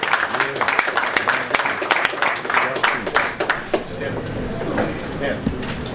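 A crowd at a boxing press conference claps and cheers in a loud burst of applause that gradually thins out, with voices mixed in among the clapping.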